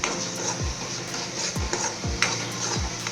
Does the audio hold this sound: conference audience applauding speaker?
no